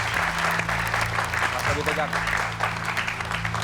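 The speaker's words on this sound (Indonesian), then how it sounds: "Tepuk tangan dulu." An audience claps briefly under ongoing talk, a short ragged burst of hand claps mixed with voices.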